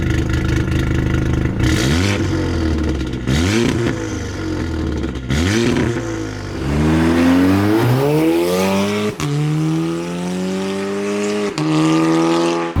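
A tuned 400 bhp Audi S3 running DK400 ECU software accelerates hard through repeated gears, loud engine revs climbing and dropping at each shift, then a long sustained pull rising in pitch.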